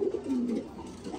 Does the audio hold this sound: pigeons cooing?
yes